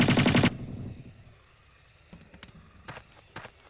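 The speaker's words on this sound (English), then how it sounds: "you can fire guns gangster style" Guns fired gangster style in Jurassic Park: Trespasser, a loud rattling burst of rapid shots at the start, then a few scattered sharp clicks and shots, with no talk.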